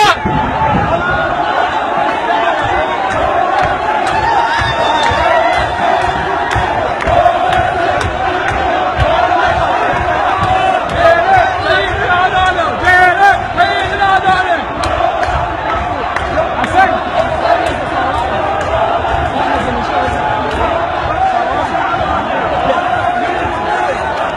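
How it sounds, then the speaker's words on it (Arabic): Crowd of men and women storming into a building, loud dense shouting and chanting voices overlapping throughout, with constant rough babble and no pauses. "نساء ورجال يقتحمون القضاء"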